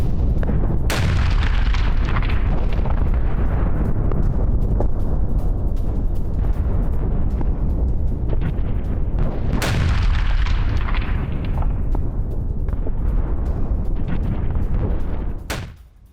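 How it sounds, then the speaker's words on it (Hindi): SDB-5 bombs dropped by a Ukrainian drone explode in Russian trenches, heard as two sharp booms several seconds apart, each followed by a loud, rumbling, crackling roar that fades out at the end. "रूसी खंडकों में विस्फोट के बाद आग लग गई।"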